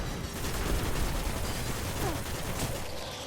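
Dense gunfire from the sci-fi shooter Destiny: Rise of Iron rattles in a steady barrage through the scene, layered with game noise and no clear gaps.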